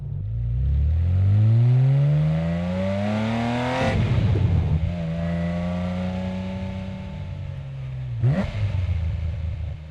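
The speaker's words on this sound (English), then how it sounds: "It's immediate, it's sharp, it's almost impatient, and that's the engine." A 1989 Porsche 911 Classic GT engine revs hard while driving, climbing sharply through the gears with loud rising pitch sweeps, two abrupt shift breaks, and a close, continuous roar.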